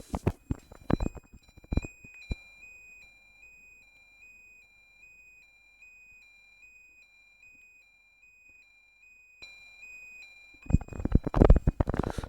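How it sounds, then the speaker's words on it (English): A steady, high electronic buzzer tone from a passive buzzer driven by an Arduino Uno holds for several seconds, with some clattering handling noise before and after. "you can see there we have the Arduino and this is our passive buzzer"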